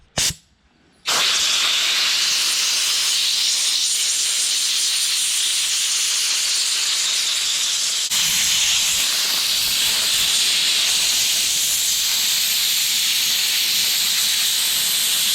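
Compressed air from a nozzle blasts dirt out of the radiator fins of a Can-Am Commander, a loud steady hiss lasting nearly the whole time after a brief start, with a slight shift partway through.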